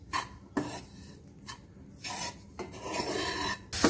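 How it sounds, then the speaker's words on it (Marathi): Khoa (mawa) stirred and roasted in a pan over a low flame, heard as intermittent scraping and rasping strokes of a spoon against the pan, close and fairly soft, with no talking. "पहिल्यांदा हा खवा मंद गॅसवर आपण परतून घ्यायचा"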